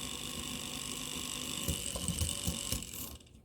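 The motor of an Athearn F7 model locomotive, loosely fitted, runs with a steady whirring buzz, broken by several rattling clicks and knocks as it shifts, before cutting off.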